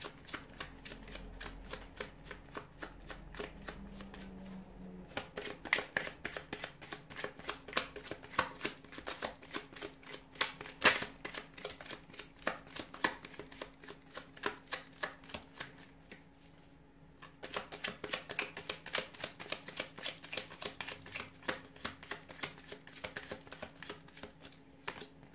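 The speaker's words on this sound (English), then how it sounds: "give the cards a shuffle here" Tarot cards shuffled by hand, soft rapid riffling and flicking in repeated bursts with brief pauses between them, close and quiet with no voices.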